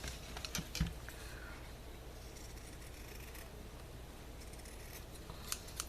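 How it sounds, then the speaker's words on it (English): Scissors snip through excess fabric while a fabric bunny rabbit is being crafted, a few close, sharp cuts near the start and a couple more near the end, quiet with no talking. "cut some excess fabric I have here"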